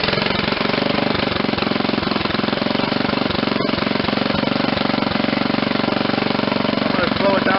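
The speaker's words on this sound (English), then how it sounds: "Let me put it to full throttle again, get it to start" A Tecumseh HH70 engine on an old Ariens rototiller runs at full throttle, a loud, steady, rapid chugging roar that holds evenly throughout, with a brief dropout near the middle.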